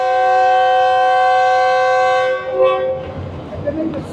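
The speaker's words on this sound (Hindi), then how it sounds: "सेकेंड डिपार्चर विसल भी हो गई" Departure whistle of the Karachi Express train at a station platform, a long sustained horn-like tone held for over two seconds, loud and near, then giving way to platform noise and muffled activity.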